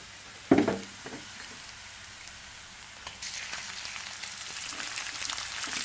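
Ground pork with garlic hitting a hot pan: a sharp clatter as it drops in, then a growing, steady crackling sizzle of frying meat, fairly close and with no talking.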